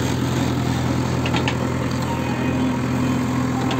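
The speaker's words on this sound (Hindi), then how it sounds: "This JCB working एक्सेवेशन of HPC head wall." A JCB excavator digs out the headwall of a Hume pipe culvert on a construction site, its diesel engine giving a steady, continuous drone with a low rumble throughout and no voices.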